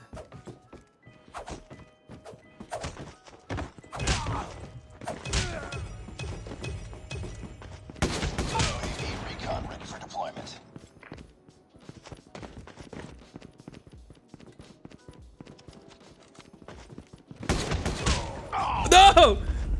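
Gunfire in COD Mobile during a King of the Tower custom match: scattered short bursts and sharp thuds spread across a mostly quiet stretch, with a louder cluster near the end and a player talking in places.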